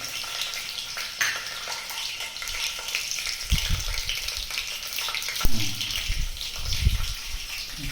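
Garlic, cumin and mustard seeds fry in oil for chicken sukka, a continuous bright sizzle with occasional pops, joined midway by a few low clunks from stirring in the pan.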